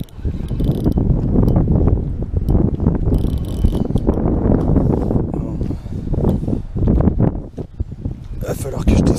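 A cold north wind buffets the microphone in loud, rumbling gusts that swell and ease without a break, with a voice nearby amid the roar.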